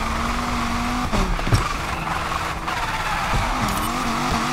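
In the racing game NFS Unbound, a car slides through a handbrake drift, tires squealing and skidding over a droning engine, with several sharp tonal swoops and a couple of abrupt bursts as it catches traction.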